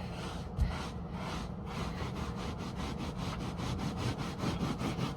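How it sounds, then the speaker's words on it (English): Continuous rhythmic scrubbing inside a toy hauler trailer, brisk back-and-forth strokes rasping against a surface, close and steady for several seconds. "just scrubbing it in, just scrubbing it in, getting it all nice and wonky"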